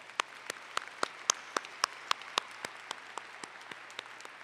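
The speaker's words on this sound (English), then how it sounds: "Let's also give them a round of applause" Commencement audience applauding deans and senior administrators on the platform, a steady run of distinct, evenly spaced claps standing out over a softer wash of crowd clapping, moderately loud and without speech.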